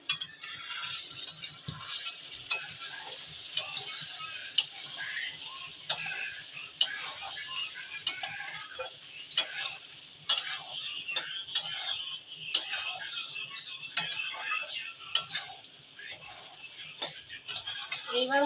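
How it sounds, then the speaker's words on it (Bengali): Duck meat with two added eggs is stirred in a cooking pot: a spoon clinks and ticks against the metal in a steady, repeating rhythm, with a low background sizzle throughout. "এইবার মাংসটা একবার নাড়বো"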